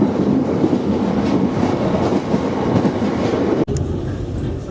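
An Island Line train on the Isle of Wight rumbles and rattles along the rails during a very bumpy ride, a loud, dense onboard roar that suddenly drops out with a sharp click near the end.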